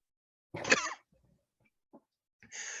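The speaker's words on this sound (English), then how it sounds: "I'm gonna cut that cough." One short, sharp cough up close in a quiet room, followed by faint breaths and a rustle.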